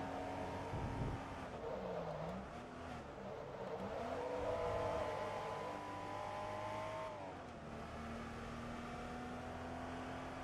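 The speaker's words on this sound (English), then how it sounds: "the engine noises in this game are unbelievable for its time" A Porsche 914/6 engine revs in the Forza Motorsport 2 racing game. The pitch climbs and falls through shifting gear changes, loud and continuous, with a brief tire-squeal-like whine near the start.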